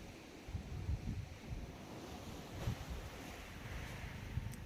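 Sea waves wash steadily against the shore, a continuous low rumble of surf with gentle swells and some wind, heard alone with no voices.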